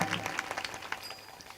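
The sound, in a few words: audience applause for the sound operator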